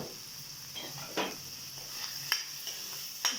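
A spoon stirring coriander powder into a sweet potato (kanda gadda) curry in a pan: soft scraping strokes and a few light metallic clinks over a faint sizzle, quiet and close, no talk.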